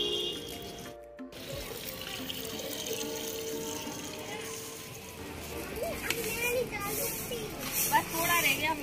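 Water runs steadily from a tap or hose to water wilted rooftop plants at a home, a continuous splashing flow heard under a woman's and children's voices.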